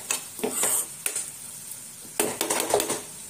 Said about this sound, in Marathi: आपण आता मिक्स करून घेऊ चांगलं।